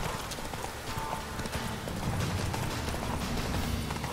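Steady clip-clopping of horse hooves at a trotting rhythm, fairly close, with faint mechanical clicks and background game ambience in The Witcher 3: Wild Hunt.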